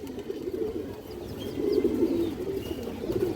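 A pigeon from an old bloodline, ring-eyed, coos in low, soft, rolling murmurs, close by and continuous, with faint chirps from other birds in the background.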